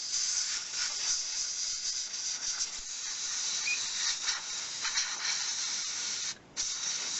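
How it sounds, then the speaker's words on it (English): Compressed air blown into the sticking shutter of a Pentax H1A camera, a close continuous hiss that holds steady and cuts out briefly near the end. "I'm going to take my compressed air and blow it out."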